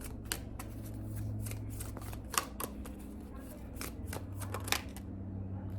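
Oracle cards being shuffled by hand during a tarot-style reading, a steady soft riffle broken by several sharp slaps and flutters, close and fairly quiet with no talk.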